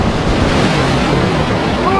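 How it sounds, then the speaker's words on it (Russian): Strong, dangerous storm waves crash and roar on a Black Sea beach at Anapa, a loud, continuous surf wash with heavy wind buffeting the microphone. "А волны очень сильные и на самом деле очень опасные."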